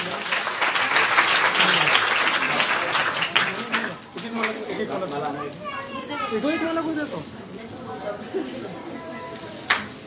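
Audience applause at a Bhagwat katha gathering in Baraut, a burst of clapping that fades after a few seconds as voices, some sounding like children, take over and chatter on top.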